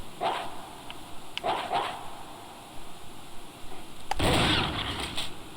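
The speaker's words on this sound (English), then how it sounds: "there's some zombie dogs." Zombie dogs in Resident Evil HD Remaster bark in several short bursts at moderate volume, with a louder harsh burst of game noise near the end.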